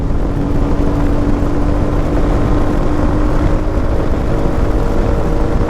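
Royal Enfield Meteor 350 motorcycle accelerating while riding, a loud, steady single-cylinder drone mixed with heavy wind rush, continuous and close with no talk.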